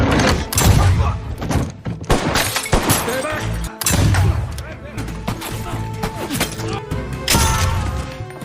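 Gunfire in a film shootout with repeated heavy shots, crashes and thuds in dense overlapping bursts, mixed with music and shouting voices throughout.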